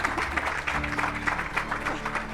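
A leadership-event audience gives a hearty round of applause, close and loud, with clearly pulsing individual claps over a low steady hum.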